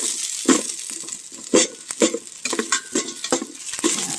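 Garlic with ginger and onion sautéing in a pan for sinigang na pampano, giving repeated close stirring scrapes and soft sizzling with irregular clatters of the utensil.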